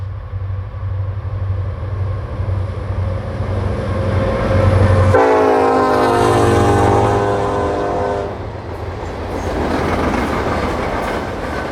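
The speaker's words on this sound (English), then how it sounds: "The train enters the S-curve east of Myerstown, passing under Weavertown Road." Freight train on an S-curve passing beneath a deck girder road bridge, heavy rumble and wheel noise throughout with a loud horn blast midway that fades as the cars roll on close by.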